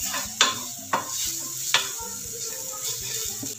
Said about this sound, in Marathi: सर्व तेलामध्ये चांगलं परतून घेऊया